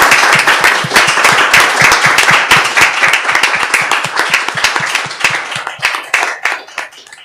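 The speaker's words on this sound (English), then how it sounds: "A big round of applause to him." A round of applause at a quantum technology showcase, loud and close, with many sharp individual claps over a dense bed of clapping that gradually thins and softens toward the end.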